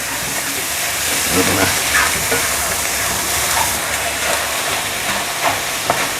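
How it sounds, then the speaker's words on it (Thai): Oyster omelette batter is stir-fried in a hot pan, producing a continuous loud sizzling hiss with occasional scraping and stirring knocks close by. "แล้วก็ผัดเลยนะครับ ดี๋ยวผัดไปเรื่อย ๆ นะครับแป้งมันจะ ค่อยๆ สุกใสขึ้นมานะครับ"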